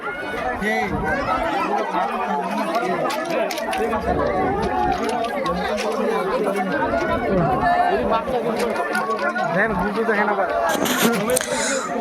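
Loud, dense crowd babble from many voices at once at the Maa Bolna temple festival fair, a constant crush of chatter close around.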